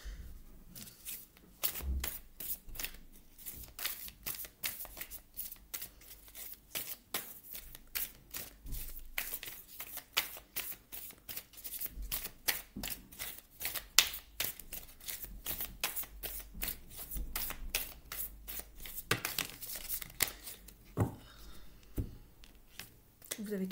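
Tarot cards being shuffled by hand: a long, continuous run of soft riffling and slapping card sounds, close and fairly quiet, with brief pauses and renewed bursts throughout.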